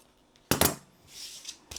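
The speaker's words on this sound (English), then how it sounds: "If you've got any excess fabric picking out, like me, then trim it down." Scissors trim excess fabric on a sewn earbud holder, one sharp close snip followed by a fainter second cut and a light click.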